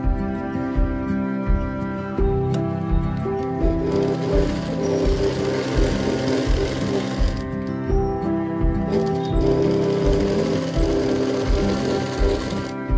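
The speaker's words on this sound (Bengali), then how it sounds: "এবার কাপটাকে এই ফেব্রিকের সাথে ভালো করে সেলাই করে নিতে হবে।" A sewing machine stitches a bra cup onto blouse fabric with a steady, rapid mechanical chatter that runs almost continuously and close by, with only brief dips in speed.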